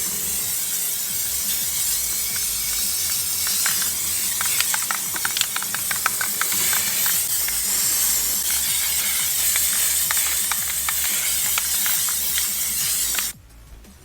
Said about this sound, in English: we're going to spray paint